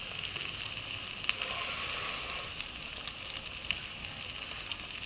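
Green chilies hit hot oil with frying chicken spices, producing a steady, fairly loud crackling sizzle with small pops throughout.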